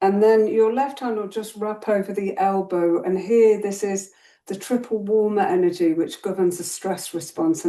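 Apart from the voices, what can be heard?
No distinct noise like a dog, phone or traffic.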